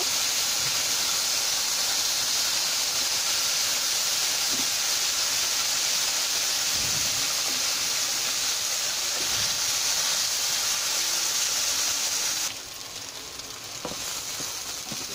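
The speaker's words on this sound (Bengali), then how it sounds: "এখন ঢেঁড়সগুলো ভেজে নিব।" Okra (ladies' finger) frying in hot oil for a Bangladeshi-style fish dish, a steady loud sizzle and hiss that runs the whole time with occasional stirring clicks, easing slightly toward the end.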